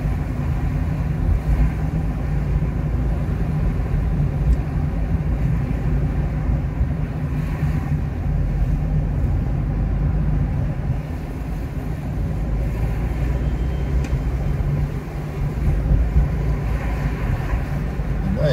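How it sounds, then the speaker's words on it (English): A car driving around the streets of Conwy, with a steady low engine and road rumble that stays constant and fairly close for the whole stretch, with no talk over it. "That was a little drive round Conwy to finish the video."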